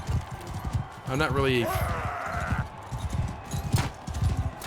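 In Mount & Blade II Bannerlord, a mounted rider's horse keeps up a rhythmic clip-clop of hooves throughout, and a neigh rings out partway through, while someone talks over the game sounds.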